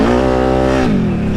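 A giant high-powered four-wheeler engine revs hard in a flooded, muddy backyard, a loud sustained roar that holds steady before dropping in pitch as the throttle eases.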